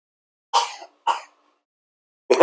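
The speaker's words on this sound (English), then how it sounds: "Now you pick up my son coughing" A sick boy coughs indoors: two short, raspy bursts a half-second apart, then silence before a third cough begins at the end, fairly close and clear with no talk.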